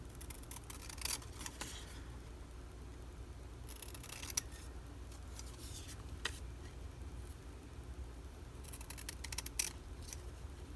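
Scissors cutting a paper pattern for a Christmas plaque, a quiet run of scattered snips and crisp clicks in clusters at irregular intervals against a soft, low room hum.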